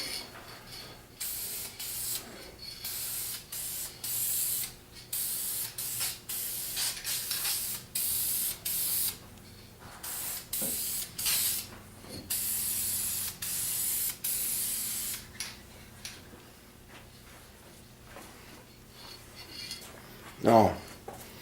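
Lacquer sprayed onto a wooden table in repeated short hissing bursts, each lasting a second or two with brief pauses between, close and fairly loud, followed by a soft knock near the end.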